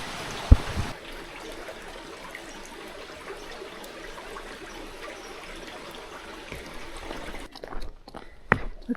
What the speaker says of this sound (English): And you're just walking along this creek the whole way.